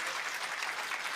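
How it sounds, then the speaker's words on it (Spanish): Dense, steady applause from a church congregation fills the short moment, a broad continuous wash of many hands clapping together with no voices rising above it. "Más fuerte ese aplauso, hermanos, para la gloria de nuestro Dios."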